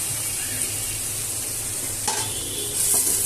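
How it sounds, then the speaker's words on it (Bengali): Okra frying in a pan as part of a simple bachelor-style home meal, giving a steady, close sizzle with a faint clink near the middle. "ঢেঁড়স ভাজি"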